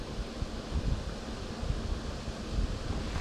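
Wind buffets the microphone at a fishing spot on a dam, a steady, close rumbling roar with gusty swells that fills the whole stretch without any voices.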